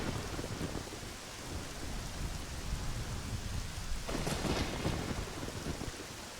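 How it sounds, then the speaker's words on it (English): A staticky rain sound effect hisses steadily, with thunder cracking and rumbling in the background and one brighter crackling burst partway through. "The thunder cracking off in the background constantly kind of makes up for that static to give you something different to listen"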